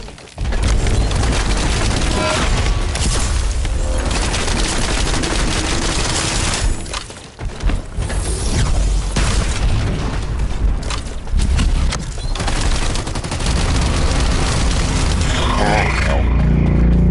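Dense, loud gunfire in the shooter game The First Descendant, rapid overlapping shots and bursts with booming impacts nearly nonstop, a brief lull midway, and a voice shouting over the battle.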